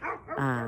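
A dog gives one short, close bark that slides into a whiny yip, loud and alone for under a second.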